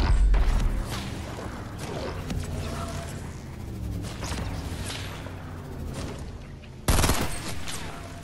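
Gunfire in Fortnite comes as scattered shots and bursts at mid distance, mixed with whooshing and mechanical clicks, with a sharp loud crack near the end.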